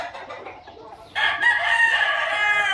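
A gamecock rooster crows loudly and close by on a ranch, a long strained call rising after a second of quieter clucking and farmyard noise.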